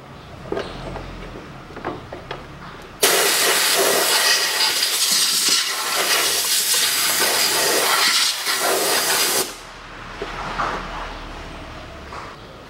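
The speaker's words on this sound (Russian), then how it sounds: "заткнем воздухозаборник и продуем внутри" A strong blast of compressed air roars through the dirty air intake of a 2013 Mitsubishi ASX 1.8 engine, a loud continuous hiss lasting several seconds before cutting off sharply, with quieter handling noises before and after.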